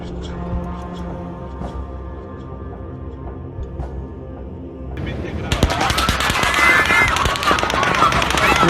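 Automatic gunfire in news footage of the Las Vegas Strip shooting at a concert crowd, rapid dense bursts that start midway and follow a quieter stretch with a steady hum and faint voices.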